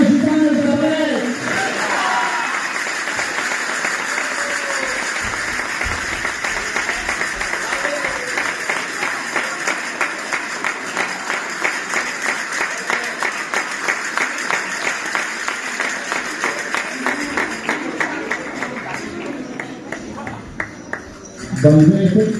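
A festival crowd at a Ballada de Gitanes dance event in Parets del Vallès applauds steadily for a long stretch, dense rhythmic clapping with voices speaking near the start and end.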